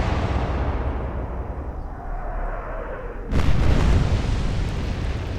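A naval gunfire salvo in the Atlantic Fleet warship game goes off with one sudden, loud, booming blast that cuts through a low rumbling background and then rolls into a lingering roar.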